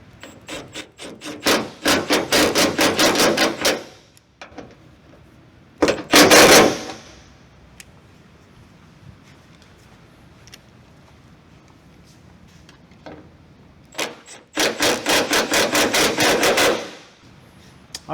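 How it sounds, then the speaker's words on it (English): A ratchet tightens the bolts on a Toyota Tacoma hood in a 2016-2021 TRD Pro hood swap, with fast rasping clicks in three separate bursts and quiet gaps with small taps between them. "we're gonna go ahead and tighten up all the bolts"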